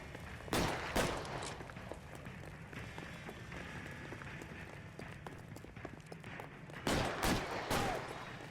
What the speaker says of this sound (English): They're just shooting now?